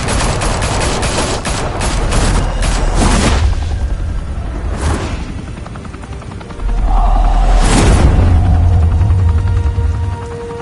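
Rapid gunfire bursts and booming blasts in the Batman Telltale Series game, a loud dense volley of shots up front, then single heavy bangs over a deep rumbling roar.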